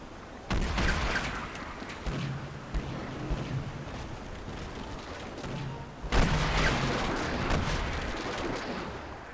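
Cannon fire hits a ship's bow in Pirates of the Burning Sea, a loud broadside of booms with rolling rumble that breaks out suddenly near the start and again later, each burst fading into a long crackling tail.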